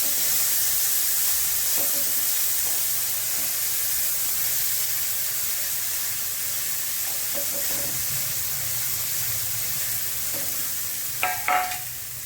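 Fresh green peas roast in a pan with a loud, continuous sizzle and hiss, broken by faint stirring scrapes and a few brief clatters toward the end.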